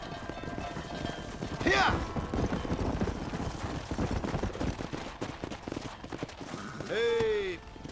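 Hooves clip-clop on horseback in the Western video game Red Dead Redemption, a steady trotting rhythm with two sharp horse whinnies near the start and end, while a voice speaks briefly.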